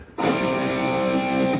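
One loud distorted electric guitar strum that sustains evenly with a dense, gritty tone and no break, heard alone.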